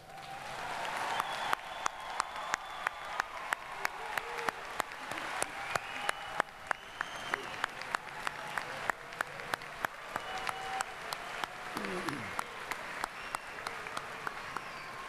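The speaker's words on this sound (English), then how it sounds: "let's give our graduates one final round of applause" Sustained audience applause for graduates at a spring university commencement, a dense wash of many hands clapping steadily for about fifteen seconds, with scattered crisp individual claps standing out and faint crowd murmur beneath.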